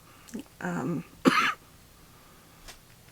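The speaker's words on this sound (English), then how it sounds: "If I cough, I'm sorry." Two or three short coughs close up, with a throat-clearing quality, followed by quiet.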